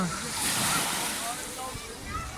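Sea waves washing and sloshing against a moving boat at sea, a steady close wash of water with wind noise buffeting the microphone and a voice talking faintly underneath.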